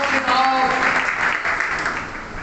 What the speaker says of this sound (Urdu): روح قدس کی تالیاں بجا دیں.